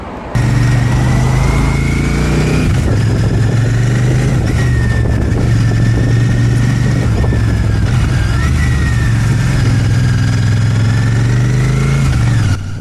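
A Royal Enfield Shotgun 650 motorcycle engine idles steadily and loudly up close, its low throbbing rumble holding an even pitch throughout.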